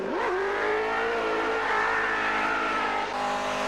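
Rally cars racing on the Targa Tasmania tarmac event, including a Porsche 911: a loud, close engine roar climbs in pitch as a car accelerates hard, holding high revs before a brief dip near the end.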